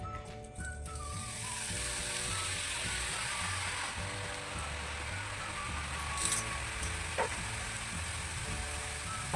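Sev, gram flour noodles, frying in hot oil for homemade namkeen: a steady dense sizzle and bubbling that keeps going throughout with a few faint clinks, no talking.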